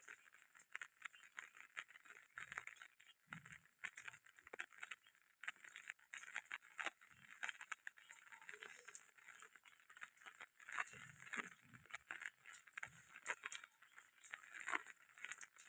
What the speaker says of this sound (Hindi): अभी जो है टिमटिमाती बारिश हो रही है